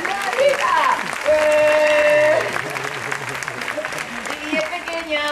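Crowd applause at a festive gathering in Spain, clapping that runs under loud overlapping voices and what seems to be music or singing throughout.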